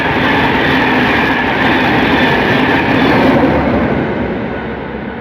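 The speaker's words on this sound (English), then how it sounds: "This is the first train in the morning." The first train of the morning rolls past on the railway. It gives a loud, dense, continuous rush of wheels and carriages that stays strong before slowly fading toward the end.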